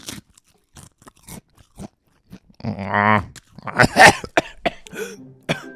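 Crunching and chewing of a rice cake for ASMR: a loud dry crunching bite with rapid chewing texture midway, between scattered quiet mouth clicks and short breaths, close to the microphone.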